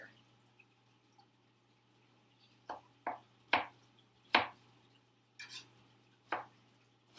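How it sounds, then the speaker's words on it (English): A knife chops fennel on a cutting board in a kitchen, about seven distinct, fairly loud thunks in an irregular rhythm, broken by short quiet gaps against a low background hum. "And at the time I'm done chopping, there will be plenty of fennel in here."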